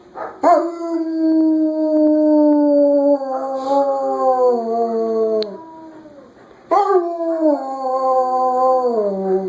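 Long, sliding howls from dogs outdoors rise and fall in two sustained bouts with a short gap, with no talking.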